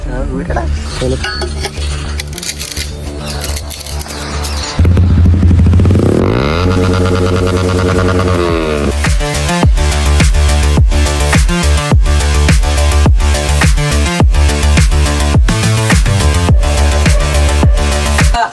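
Yamaha V4 motorcycle engine with an aftermarket exhaust, a steady loud idle that rises into a revving surge, then a rapid run of sharp repeated pops and bursts from the exhaust.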